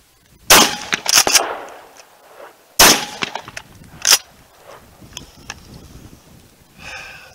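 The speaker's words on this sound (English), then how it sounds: "We're going to fire off a couple of rounds just to see how she recoils." Benelli Super Nova Realtree Max 5 pump-action shotgun firing 3.5-inch rounds at a range: three loud, sharp blasts spaced a second or two apart, each with a brief ringing tail, then quieter handling noises.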